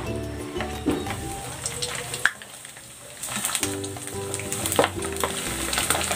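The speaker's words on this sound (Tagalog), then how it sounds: "I-deep fry ko na itong ating yempo" Pork belly slices dropped into hot oil for crispy pork belly chips, a loud bubbling sizzle that dips briefly, then surges back with a rushing crackle and some stirring clatter.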